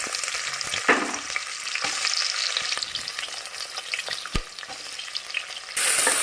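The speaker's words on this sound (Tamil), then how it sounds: "எண்ணெய் நல்லா காஞ்சிச்சு இப்போ நம்ம வெங்காயம் போட்டுக்கலாம்" Onions hit hot oil with fennel seeds in a pan while cooking mushroom biryani, giving a loud, steady sizzle with occasional stirring clatter and scrapes throughout.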